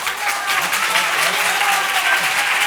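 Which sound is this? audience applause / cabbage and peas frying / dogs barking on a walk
audience applause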